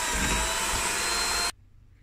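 An electric mixer beats butter, sugar and vanilla for an apple crumble, a loud steady whirring drone that cuts off abruptly near the end, leaving near silence.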